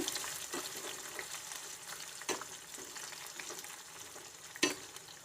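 Dried red chillies crackle and sizzle steadily in hot oil while being stirred for tomato pickle, with occasional sharp scrapes of the spoon against the pan.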